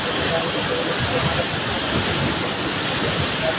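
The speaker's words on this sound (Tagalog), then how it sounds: "Ito malakas na tubig." Strong floodwater rushes loudly and steadily during a typhoon, a dense continuous roar of water close by with no break across the clip.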